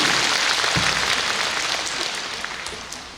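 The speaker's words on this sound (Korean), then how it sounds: "큰 박수로서 맞이해 주시기 바랍니다" Steady applause fills a large gathering at a Korean Catholic charismatic renewal national retreat as a national president is welcomed, a broad wash of clapping that gradually softens.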